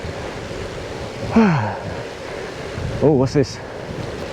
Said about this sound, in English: Boy, it's certainly windy.